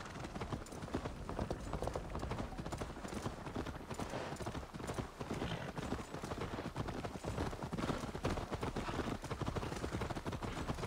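Steady horse hoofbeats in Assassin's Creed Valhalla clip-clop at a brisk, even pace, close and continuous throughout with no talking.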